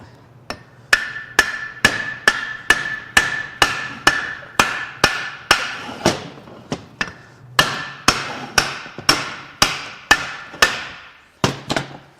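A hammer taps repeatedly on a stuck drive motor part from a 2023 Audi e-tron or Volkswagen ID.4 electric vehicle. About two dozen loud, sharp metallic strikes come in a steady rhythm, each ringing briefly, with a short pause partway through.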